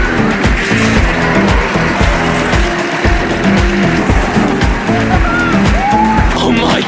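Dragon's Fury spinning roller coaster at Chessington: a loud, constant rumble of wheels on track with rhythmic clattering, rattling and occasional high squeals as the ride spins through turns.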